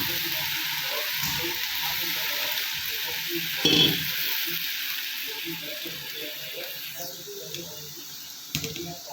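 A pan of fenugreek leaves sizzles and fries steadily as water is added, with a burst of hissing and a few stirring clinks.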